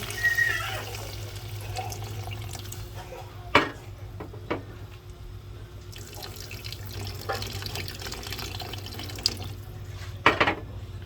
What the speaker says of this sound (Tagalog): lagyan natin ng kunting tubig para may sabaw